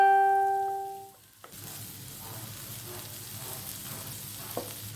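Marinated prawns sizzle steadily in a hot pan after a brief electronic tone fades, with faint stirring scrapes and a small clack near the end.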